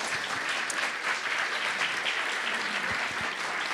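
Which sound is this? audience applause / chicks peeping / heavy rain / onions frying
audience applause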